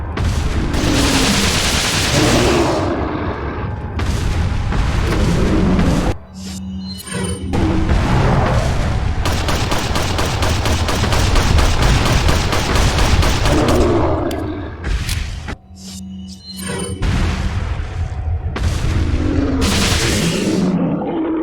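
Sustained bursts of gunfire aimed at the giant Gigante in Resident Evil 4 Separate Ways, loud and dense rapid shots with booming impacts, broken by two short pauses over about twenty seconds.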